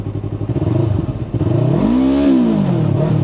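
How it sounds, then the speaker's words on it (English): A Yamaha R3 motorcycle engine, first idling with a quick pulsing putter, then revved up in a smooth rising and falling swell, loud and close. "Can I rev?"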